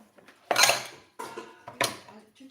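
A metal cooking pot and dishes used for cooking vegetables clatter in a few sharp, close knocks and scrapes in a kitchen, with no talking.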